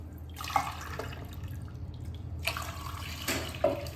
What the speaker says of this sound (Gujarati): હવે આપણે બટાકાને બાફવા માટે કુકરમાં પાણી લઈ લઈશું